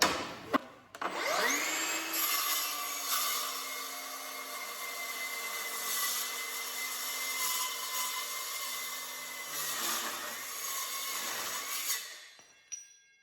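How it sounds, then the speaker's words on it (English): A power saw cutting at an angle through a clamped workpiece, its motor holding a steady high whine that wavers as the blade bites, then winds down at the end, heard close with no talk. "I'll cut it on the angle so you can see what cut I've done."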